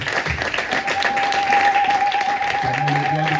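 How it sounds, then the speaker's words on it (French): A church congregation applauds during a Sunday service, a dense, steady wash of clapping from many hands lasting the whole stretch, with a faint voice underneath. "On acclame le Seigneur. Acclamons le Seigneur."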